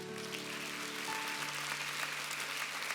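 Soft, distant applause from a church congregation during a sermon, a faint continuous patter under sustained organ or keyboard tones.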